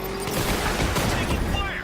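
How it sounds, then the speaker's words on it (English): Dense, continuous gunfire from a firefight in Batman: Arkham Knight forms a loud, rattling wash of overlapping shots, with a voice talking over it. "Reinforcements incoming. Taking enemy fire."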